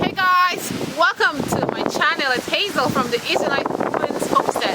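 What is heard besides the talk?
wind blowing into microphone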